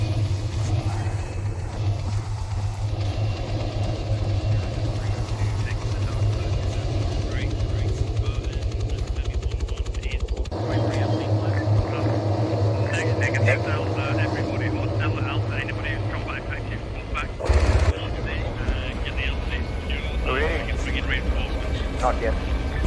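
A military helicopter in the Arma 3 simulation game drones steadily throughout, a continuous engine and rotor rumble with people talking over it.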